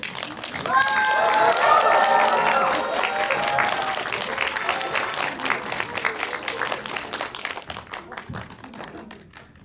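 A cinema audience at a stage greeting for the Korean film 'Boss' bursts into loud, full applause with excited cheering voices near the start, then the clapping thins out and fades toward the end.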